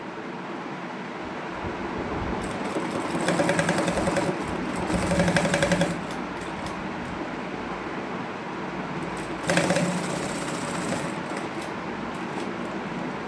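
A sewing machine runs steadily up close while stitching fabric tassels for a hanging latkan design, with a continuous whirring hum and a few louder surges as the stitching speeds up.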